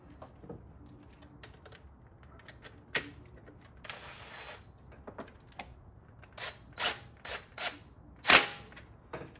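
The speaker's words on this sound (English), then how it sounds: "We're gonna take this little 10mm bolt off." A 10mm bolt is worked loose with a ratchet on a Nissan Frontier engine, sharp quick ratchet clicks in short bursts, growing louder and denser toward the end, close up with no talking.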